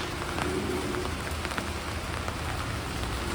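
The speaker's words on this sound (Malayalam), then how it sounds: "ഇടയ്ക്കിടയ്ക്ക് മഴ പെയ്യുന്നുണ്ടെങ്കിലും ഇതിപ്പോൾ ഇങ്ങനെ തുടർച്ചയായിട്ട് പെയ്തുകൊണ്ട്" Steady rain pours down continuously, a dense hiss of drops pattering on surfaces, with no voices.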